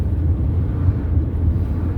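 Steady low wind rumbles and buffets the microphone while driving on a desert road near Yucca Valley, a constant muffled roar without any voices.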